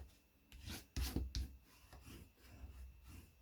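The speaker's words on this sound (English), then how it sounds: "Now we can fold over this little tab, give it a fold and burnish as well." Cardstock for a handmade card is folded and burnished with a tool, making soft, faint rubbing strokes up close, with a couple of firmer swipes in the middle.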